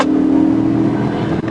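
A fleeing car accelerating during a police pursuit, a steady loud engine drone with a strong low hum, close and continuous, ending in a brief dip.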